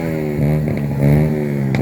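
A motorcycle engine runs nearby with a loud, steady droning hum that rises slightly a couple of times, with a faint clatter at the end.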